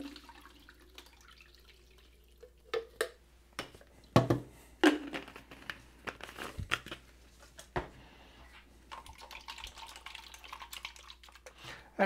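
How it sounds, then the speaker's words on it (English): Water runs into and sloshes inside a film developing tank as color film is rinsed, with splashes, drips and trickling in irregular bursts, quiet and close. "I'm going to rinse the film with a little bit of water now."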